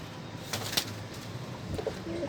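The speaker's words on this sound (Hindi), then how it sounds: "ये देखें, ये मियाँ साहब वाला कबूतर है" A Mian Sahab Teddy pigeon, an old pure Teddy bloodline, coos softly nearby in a few low bursts, with a faint flutter of wings.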